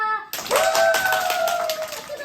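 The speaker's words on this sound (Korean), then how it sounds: "물개 박수처럼 아주 세게 줘서 불이 난 손바닥을 불을 꺼주는 거예요" Children in a Sunday school class give a fast, hard flurry of seal-style claps, a dense run of sharp hand slaps with a voice crying out over it.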